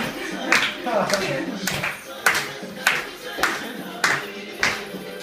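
Hand claps during a salsa dance class, sharp and evenly spaced roughly every half second, six or so in a steady rhythm, with a voice talking underneath.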